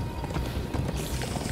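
Galloping horse hooves in Minecraft: Story Mode, a quick rhythmic clatter that stays close and loud through a short burst of game sound.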